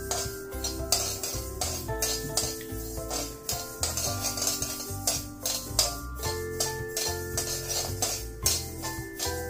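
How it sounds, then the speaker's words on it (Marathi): Garden cress seeds (halim) are dry-roasted in a pan for methi ladoo, with a spoon repeatedly clinking and scraping against the metal in steady strokes, close and continuous. "हा हालीम मी 50 ग्रॅम घेतलाय, तो 2-3 मिनिट असा भाजून घेते।"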